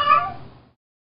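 A cat gives a single clear meow, loud at onset and trailing off into silence.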